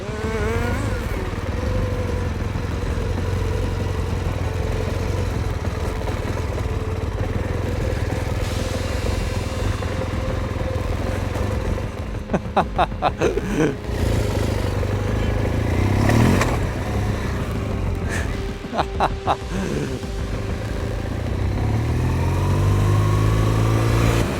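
A BMW R1200 GS motorcycle engine runs steadily while riding, with a continuous mid-pitched drone under wind noise. Brief rattling bursts come partway through, and the engine rises in pitch near the end.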